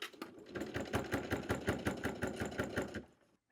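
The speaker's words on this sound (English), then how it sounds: "So I'm going to line it up with the dot and sew across." A sewing machine stitches across a thick bag with foam in it, a steady rapid mechanical chatter, close and fairly quiet, stopping abruptly at the end.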